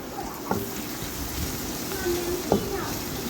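Chopped onion and three or four green chilies fry in hot oil, giving a steady, moderately loud sizzle with a couple of sharp pops or utensil clicks. No one speaks.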